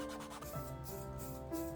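Sandpaper rubbed back and forth across a surface on a handmade multi-phone stand before lacquer painting, a short, faint, close scratchy rasp in uneven strokes with no voices.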